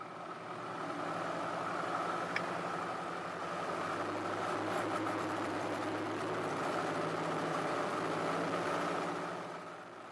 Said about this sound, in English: Adding full power for takeoff.